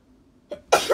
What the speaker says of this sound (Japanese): あ、くしゃみ出そう。